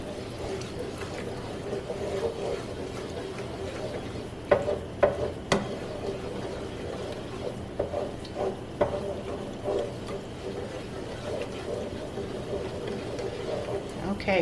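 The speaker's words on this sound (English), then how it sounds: "So I'm going to go ahead and give that a stir." Caramelizing sugar is stirred in a pot, a soft low sizzle with scattered scraping clicks and taps from the spoon, fairly quiet and close.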